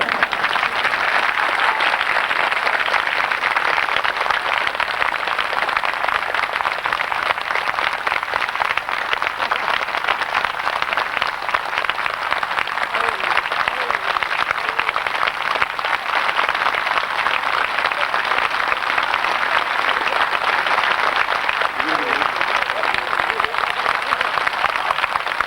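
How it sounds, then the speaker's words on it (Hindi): Audience at a Holi festival camp in 1998 claps steadily and loudly for about twenty-five seconds, a dense, unbroken wash of applause. "दूसरा पाठ ये है कि आप मुस्कुराते हुए तालियां बजाइए।"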